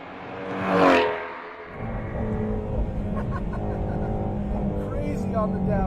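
A car engine revs hard on downshifts toward 5,500 RPM, a loud rising roar near 0.9 s, then a steady, sustained engine drone fills the rest of the clip.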